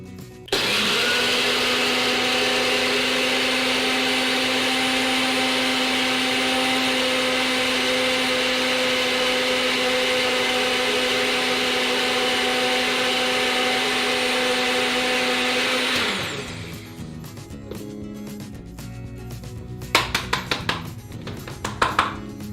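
A high speed blender grinds oats into fine flour with a loud, steady motor whine for about sixteen seconds, then stops abruptly, leaving scattered clicks and knocks as the container settles.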